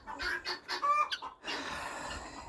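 Several chickens cluck softly in short rhythmic bursts, with a slightly higher squawk in the middle, heard at moderate distance and fairly faint.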